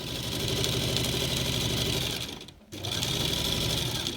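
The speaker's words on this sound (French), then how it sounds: "Je vais commencer à coudre. Je vais faire un point d'arrêt et je vais coudre comme ça tout le long jusqu'à 2 cm du bord." A sewing machine stitches fabric in a steady, fast mechanical whir, close and alone, with a short pause near the end before it resumes.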